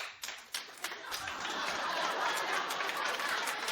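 Studio audience at a daytime talk show clapping and cheering, a broad sustained wash of applause that builds after a few sharp early claps and holds steady, fairly loud, with some laughter and chatter mixed in.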